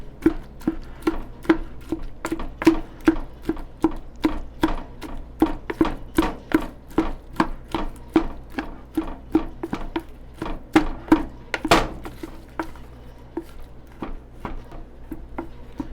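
Prickly pear cactus fruit is mashed with a small carved wooden spatula, giving a steady run of close, wet thumping squishes, roughly three or four a second, with no talk.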